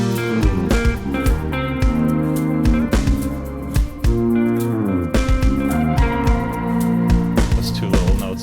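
Short synth notes ring out over a steady, punchy percussion loop in a full, loud music mix, with no voices.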